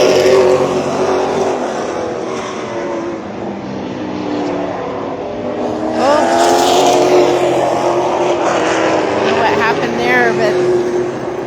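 Late model race cars circle Shasta Speedway in a main event, engines droning steadily with rising and falling pitch as cars sweep past, loud and continuous throughout under a commentator's voice.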